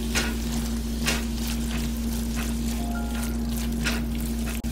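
Chili powder stir-frying in a pan for sundubu-jjigae gives a steady low sizzle, with soft scraping stirs recurring every second or so over a constant hum.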